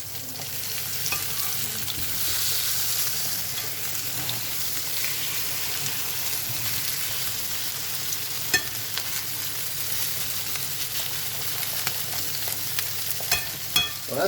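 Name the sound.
rösti potato cakes frying in a pan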